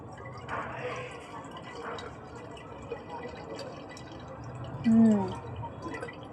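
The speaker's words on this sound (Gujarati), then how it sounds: "ભરાય છે આમાં પાણી થોડુંક થયું" Water pours and trickles into a vessel, with soft splashing and drips at close range and a brief louder gush near the end.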